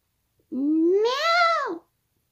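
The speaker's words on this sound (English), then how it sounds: "Meow." A single cat meow, loud and close and heard alone: it rises in pitch, holds, then falls away over a little more than a second, with clear, strong harmonics.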